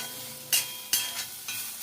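Food frying in a pan just after the lid comes off, a steady soft sizzle with a few sharper bursts of spatter and clatter, no voices.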